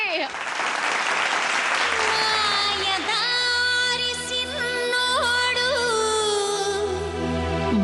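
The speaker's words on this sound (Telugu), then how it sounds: "చప్పట్లతో పిలిచేద్దామా మన బుల్లెమ్మనే" Audience applause at a Teenmar grand finale special performance, a loud sustained clapping crowd rising and blending into music with a melodic instrument line for several seconds.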